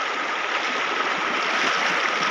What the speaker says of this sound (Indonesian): sekarang kita harus menyeberangi sungai.